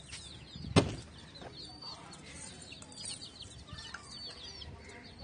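A chicken on a Tamil Nadu farm lets out one sharp, loud squawk, followed by softer clucking and scratchy farmyard sounds nearby.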